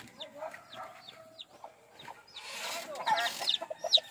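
Chicks and backyard chickens make soft clucks and thin peeping calls close by, scattered irregularly and growing busier toward the end, with a voice talking faintly underneath.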